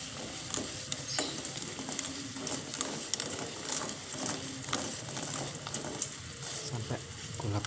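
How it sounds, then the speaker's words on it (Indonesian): Rock sugar being stirred in a pot as it melts, giving a steady soft sizzle and scraping texture with faint clicks throughout, close and continuous with no talk. "Jangan lupa kita aduk sampai gula batunya meleleh."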